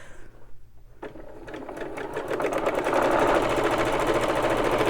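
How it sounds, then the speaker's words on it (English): Sewing machine chain stitching fabric, starting after a brief pause and running at speed with a rapid, even mechanical clatter that builds and holds steady, heard close and alone without talk. "Now this is chain stitching."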